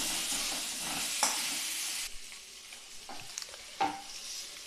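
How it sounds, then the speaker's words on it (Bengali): Potatoes and papaya fry in hot oil with turmeric, giving a bright, loud sizzle that drops away midway and is broken by a few sharp utensil knocks and scrapes. "আমি একটু লাল লাল করে কষে নিচ্ছি"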